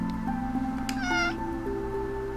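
Black cat meowing in the Calico video game, a single clear drawn-out meow over a steady background of game music.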